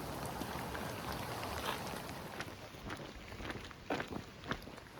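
Rain patters on gear and ground along the Pacific Crest Trail as hikers walk, a dense steady hiss mixed with wind buffeting the microphone and scattered soft thuds of footsteps and rustling, fairly close and continuous.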